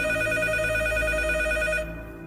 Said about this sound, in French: un jour, le téléphone a sonné